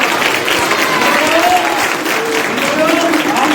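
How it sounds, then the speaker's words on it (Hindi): A church congregation claps together in sustained, dense applause that stays steady and loud throughout, with a faint voice carrying over the crowd. "तेरे लोग तेरे नाम के लिए तेरे जलाल के लिए तालियां बजा रहे हैं"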